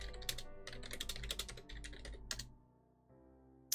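Computer keyboard keys clatter in quick, dense bursts for about two and a half seconds, then the typing drops away to a quiet room hum before a last sharp tap.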